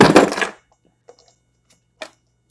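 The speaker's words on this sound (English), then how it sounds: "my phone jumped out of its holder" A phone suddenly drops out of its holder with a loud clattering knock in the first half-second, followed by a couple of faint small taps and a brief light rattle near the end, otherwise quiet.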